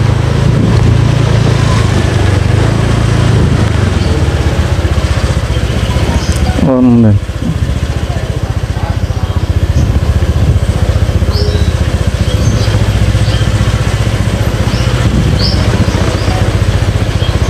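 A motorcycle engine is started again by an online ojek driver and keeps idling, a low steady rumble that runs close and loud throughout, with a brief clunk partway through and people talking over it.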